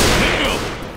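Gunfire in Left 4 Dead on the Crash Course map, a dense burst of shots that stays loud across the whole second with some game noise mixed in.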